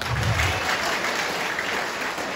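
A crowd at a municipal gathering in Parang applauds, a dense, steady patter of many hands clapping that fades slightly toward the end.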